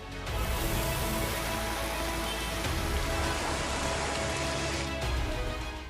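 Extremely heavy rain, seventeen inches in a day, falls on Gir Somnath in Saurashtra, heard as a loud, dense, steady wash that fades in and out at the edges, with no voices.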